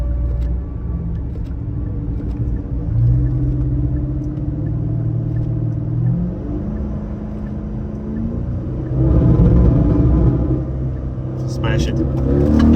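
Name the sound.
car accelerating in second gear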